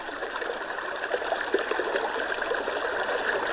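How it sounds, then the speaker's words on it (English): A small sound machine speaker plays a recording of an active river, a steady rushing and trickling flow of water that stays even throughout, loud and close with no voices. "there's a bit more of an active river. Just listen for a second."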